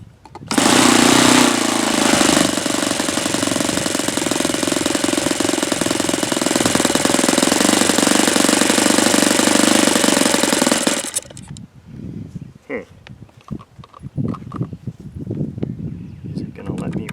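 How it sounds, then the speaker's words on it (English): Saito FA-72a four-stroke model airplane engine on its first run, roaring loudly and steadily for about eleven seconds, then cutting off abruptly, leaving quiet background noise and scattered knocks. "Let's see if that's enough to keep it running at a lower idle."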